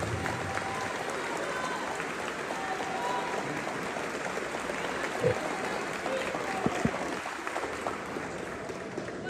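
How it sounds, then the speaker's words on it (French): Audience applause from a crowd at a university lecture, a steady dense wash of clapping held at an even level throughout, with a few sharper claps standing out near the end. "Applaudissez-vous encore une fois, s'il vous plaît."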